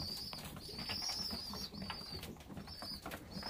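Pigeons in a backyard loft, a steady murmur of low cooing with several brief higher chirping calls rising over it, close and continuous with faint wing and body movement, no talk.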